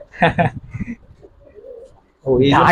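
A Lalpati pigeon pair calls with soft, low cooing, set between stretches of nearby human talk at the start and end.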